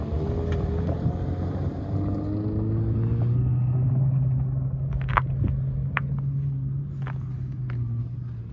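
A Honda CR-V stuck on ice, its engine droning and revving in a low rising hum, with sharp knocks and clatters of tyres and ice toward the end, heard from nearby.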